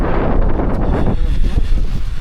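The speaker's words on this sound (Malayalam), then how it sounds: "ഒടുക്കത്തെ തണുപ്പും ഒടുക്കത്തെ കാറ്റും" Strong, cold wind gusts at a mountain campsite, roaring loudly and continuously right against the microphone with heavy buffeting.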